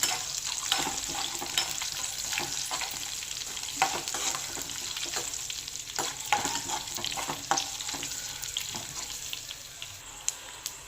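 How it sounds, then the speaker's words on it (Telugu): Curry leaves and green peas frying in a pan, a continuous close sizzle with frequent scraping stirs and clinks of a utensil against the pan. "ఇది కొంచెం వేగాక కరివేపాకు, ఇందులోనే కొంచెం పచ్చి బఠానీలు, ఇవి కొంచెం ఫ్రై అవ్వాలి"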